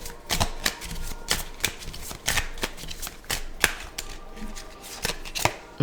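Essential Oil Oracle cards being shuffled by hand, a steady run of close, soft riffling and flicking clatters repeating quickly with no speech.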